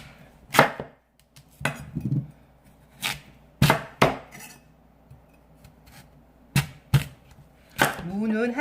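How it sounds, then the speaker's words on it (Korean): A knife chops radish for kkakdugi on a cutting board, irregular crisp thunks spaced about a second apart, close and clear, with a voice speaking briefly between cuts. "무를 먹기 좋은 크기로 썰어 주시면 돼요."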